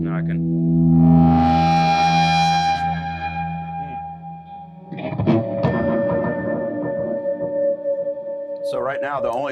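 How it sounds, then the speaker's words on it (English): Distorted electric guitar through a Marshall amp with Blue Sky reverb and Alter Ego delays: a loud sustained chord ringing out with long echo tails, then a fresh burst of picked notes repeating and trailing off, with a brief scrape at the end. "the only things you're hearing are the distortion of the Marshall, the reverb, from the Blue Sky and the Alter Ego delays"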